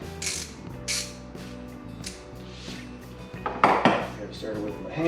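Socket wrench ratcheting while a TV wall-mount bracket goes up: metallic clicking and ratchet rasps over a low mechanical hum, with a louder burst of clattering near the end.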